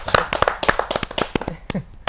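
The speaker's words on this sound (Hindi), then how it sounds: "जोरदार ताली के साथ" Sharp, uneven handclaps from a small audience at a Hindi poetry gathering (kavi sammelan), close and irregular over about two seconds.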